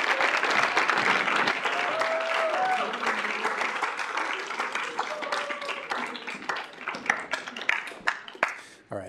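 A round of applause at a student government meeting, loud sustained clapping from a room of people that thins out into scattered claps and fades near the end.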